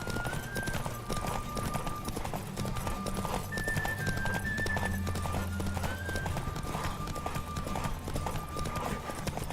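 Horse hooves pound in a steady, rapid galloping rhythm throughout a ride in The Witcher 3, continuous and moderately loud, with no one talking.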